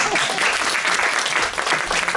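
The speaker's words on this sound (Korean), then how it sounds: "박수." Loud, dense applause from a congregation at a New Year prayer meeting, steady and sustained throughout with no talking over it.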